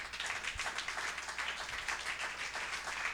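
Church congregation clapping for the King during a service, a steady dense wash of applause filling the whole stretch with no voices over it.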